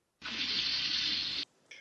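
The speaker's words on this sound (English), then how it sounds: "turn on that carbonated water. I want to hear it fizzle." Carbonated water from a soda fountain tap in an old-time drugstore, a steady close hiss of fizzing spray that starts abruptly, holds level for over a second, then cuts off, followed by a brief faint tail.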